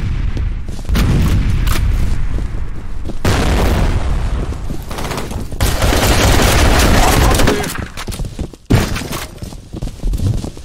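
Loud grenade blasts and rapid gunfire from a capture-the-flag match in the first-person shooter F.E.A.R. Combat, with booming explosions and continuous fusillades filling the clip, a sharp break near the end before shooting resumes.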